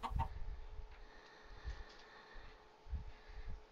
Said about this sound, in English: if I'm gonna spawn chickens